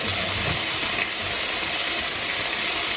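Curry sauce hits a hot pan of golden-browned ingredients, giving a loud, steady sizzling hiss that fills the whole moment without a break and with no voices over it.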